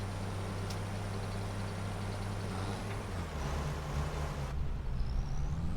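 A diesel farm tractor idles in Farming Simulator 25, a steady low engine hum carrying throughout with a brief hissing release partway through.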